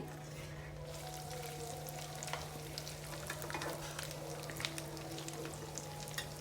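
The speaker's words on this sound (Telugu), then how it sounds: "ఫ్రై చేసుకొని పెట్టుకున్న చికెన్ పీసెస్ని కూడా వేసుకొని ఒక రెండు మూడు నిమిషాలు ఆ అల్లం వెల్లుల్లి పేస్ట్లో వేయించుకోవాలి" Fried chicken pieces sizzle in ginger garlic paste for a chicken pickle, making a steady close hiss with scattered crackles and stirring scrapes and no talking.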